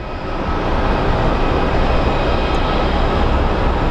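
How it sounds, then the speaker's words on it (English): A JSX Embraer 145 jet landing in Phoenix makes a loud, steady broadband roar that swells within the first half second and then holds. "we have a JSX 407 coming in from Las Vegas. It's an Embraer 145."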